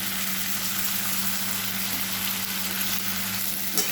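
Shrimp and taro frying together in a pan, a steady close sizzle with faint scraping as the pieces are stirred, alone without talk.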